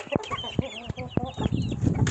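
Chickens fighting in a coop cluck and squawk in agitated bursts, close by, with flapping and scuffling noises underneath.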